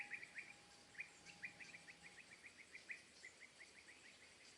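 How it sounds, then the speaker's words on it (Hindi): Small birds chirp in the trees of a garden, a quick run of faint, high tweets repeating through the stretch with a thin steady tone beneath, and no voices. "पेड़ों पे पंछियों की चहचहाट सुनाई दे रही है।"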